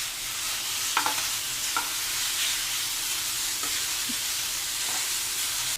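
Beef coated in masala being stirred in a hot pan, a steady sizzle throughout with a few soft scraping knocks of the spoon, close and continuous with no talking.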